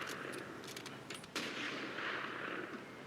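Gunfire from a World War II battle scene in a war film, with a few sharp shots and a heavier blast over dense, rumbling battlefield noise, fairly faint overall.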